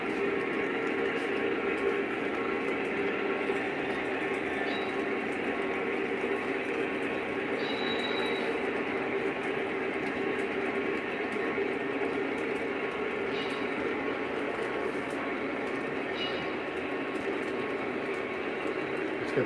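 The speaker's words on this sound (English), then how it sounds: "We got two trains running at once" Two model trains run at once on a Conrail-themed layout, making a continuous close hum and rumble with faint high squeals throughout.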